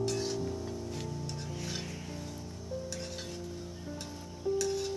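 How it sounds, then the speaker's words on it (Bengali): Potato snacks frying in hot oil in a home kitchen during the second and final round of frying, with a steady low sizzle and occasional light clinks and stirring sounds throughout. "সেকেন্ড অ্যান্ড ফাইনাল রাউন্ডের ভাজা চলছে এখন"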